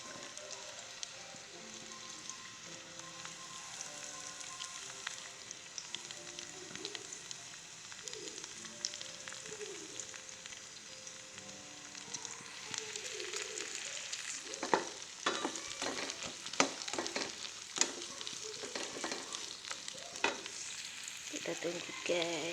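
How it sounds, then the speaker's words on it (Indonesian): Onions fry in a pan with a soft, even sizzle that grows busier later as stirring adds quick clattering taps and scrapes, close but quiet. "Setelah itu tidak lupa kita masukkan bawang bombaynya guys"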